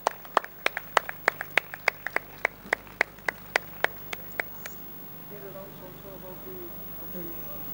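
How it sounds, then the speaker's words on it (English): A single person claps steadily for a photography prize winner at an awards event, about fifteen crisp, evenly spaced claps over four seconds, then stopping, with faint room noise and murmuring afterward. "Please congratulate him with a round of applause"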